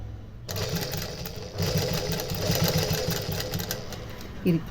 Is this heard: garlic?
no